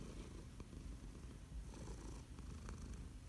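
A cat purrs close up, a steady, rumbling purr that continues unbroken throughout with no other sounds.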